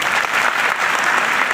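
Applause from an audience at an academic excellence award ceremony, a steady dense clapping that is loud and close and fills the whole short stretch with no talking over it.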